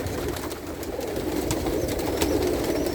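Pigeons coo steadily in a loft, a low continuous murmur of overlapping calls close by, with faint rustling and no speech.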